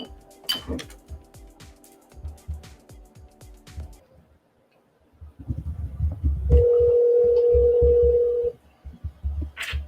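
Telephone tones from an emergency dispatch line as a 911 call is transferred: a run of short rapid beeps, a brief pause, then a steady held tone for about two seconds before clicks resume, all fairly close and clear.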